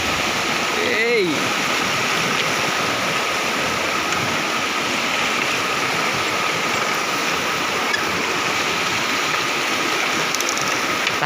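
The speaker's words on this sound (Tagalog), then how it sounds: "Lakas ng agos." The strong current of the Lawasan River in Norzagaray, Bulacan, a loud, continuous rushing roar of water, close by, with a brief voice near the start.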